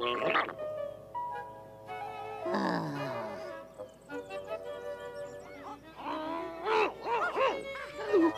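A toad croaks amid other animated animal calls, with rough, pulsing croaks and drawn-out voiced cries that rise and fall in bursts.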